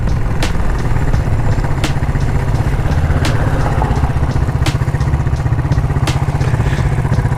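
A Cafe400 motorcycle with a modified exhaust holds a steady high rev, its loud, continuous, rapid exhaust pulse running for about seven seconds. Sharp clicks recur every second or so, and no one speaks.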